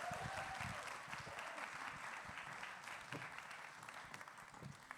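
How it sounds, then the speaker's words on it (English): Symposium audience applauds as a panelist comes to the stage, a sustained wash of many hands clapping at moderate distance, steady then gradually easing over five seconds. "Clap your hands for Ewan as he comes to the stage."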